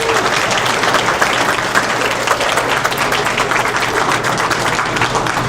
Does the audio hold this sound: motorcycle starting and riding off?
no